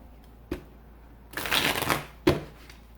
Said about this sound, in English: I'm gonna shuffle and pull a few